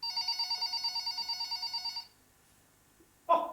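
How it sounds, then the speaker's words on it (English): A telephone rings with a rapid trilling bell for about two seconds during a stage play, then a brief silence follows and a short clack closes it. "got a phone call"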